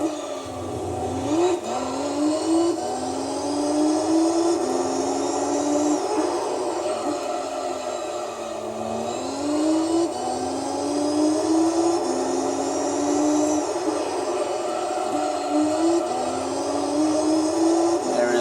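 Racing-car engine of a Fiat Coupe Turbo in Gran Turismo 3 during a two-hour endurance race in Rome, droning steadily with repeated rising rev sweeps and gear changes, loud and continuous with no talk.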